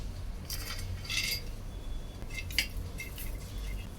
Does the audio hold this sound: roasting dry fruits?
yes